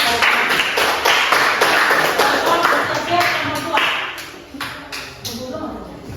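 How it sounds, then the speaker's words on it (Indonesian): An audience claps at a gathering, a run of sharp, closely spaced claps that is loud at first and thins out toward the end, with voices talking underneath. "ayo kita berikan tepuk tangan."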